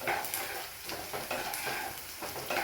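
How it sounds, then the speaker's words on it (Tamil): Onions sautéing in a pan with a little salt, a quiet, continuous sizzle with faint stirring scrapes, fairly distant and soft. "வெங்காயம் நல்லா வதங்கிடுது."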